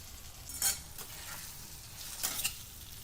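Potatoes frying in a pan with kasuri methi and white sesame seeds give a soft, steady sizzle, broken by a couple of sharper stirring scrapes.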